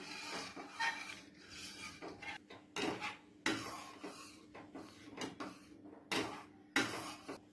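Thiruvathirai kali being stirred constantly in a pot over a low flame, with a spoon scraping and knocking the pot in irregular strokes and short bursts, separated by brief pauses.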